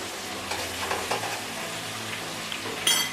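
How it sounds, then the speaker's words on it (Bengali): Soy, chili and tomato sauces stirred together in a frying pan for chili fish egg curry, a quiet sizzle under soft scraping strokes, with a brighter scrape near the end. "ভালো করে মিশিয়ে নিচ্ছি।"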